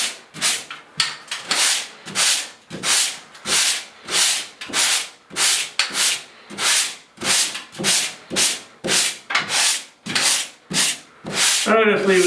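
Drywall ceiling sanded over a filled nail hole with coarse grit, the sanding block pushed one direction in steady, rhythmic strokes, about eighteen close, loud scrapes with brief gaps between them and no talking.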